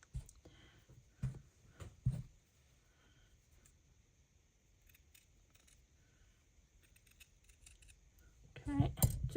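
Scissors snipping felt wings for a wool robin, a few sharp close cuts early on and a louder flurry of snips and rustling at the end, with quiet pauses between.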